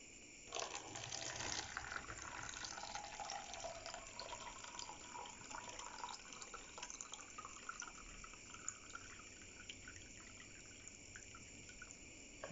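Water soaked with banana peels pours steadily into a container, a continuous close splashing gush that slowly softens as the vessel fills, with no voices.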